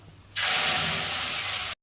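A spice paste hits hot oil in a pan already used for frying pointed gourd, with dried chilli, black cumin and rice in it, and bursts into a loud, steady sizzle that holds without pause for over a second.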